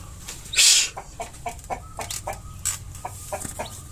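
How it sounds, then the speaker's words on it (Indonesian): Barred Rock chickens clucking in a pen, with one loud squawk near the start followed by softer, scattered clucks and rustling. "kita barusan diserang oleh ayam baretrok yang merasa terancam di kandang"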